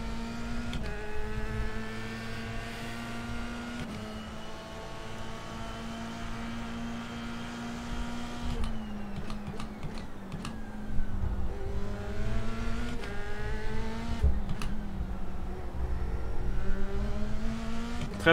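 A race car engine in the iRacing sim climbs and drops in pitch through repeated throttle and gear changes, a continuous droning whine that stays steady and loud throughout.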